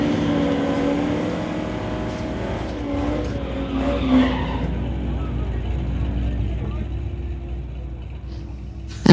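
Drag race cars, including a 1969 Mach 1, roar down a street-legal strip under the announcer's commentary, engines loud and sustained, fading toward the end before a sharp burst.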